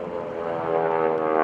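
A T-6 Texan-style propeller airplane performing at the 2011 Blue Angels Homecoming airshow, its steady buzzing engine drone loud and continuous, swelling slightly as it passes with no talk over it.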